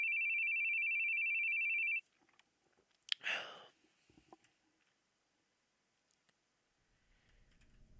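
A phone rings in the horror video game The Boogie Man, a steady electronic tone for about two seconds before cutting off, followed by a brief clatter and near silence.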